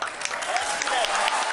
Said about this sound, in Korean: 환호와 박수가 쏟아집니다.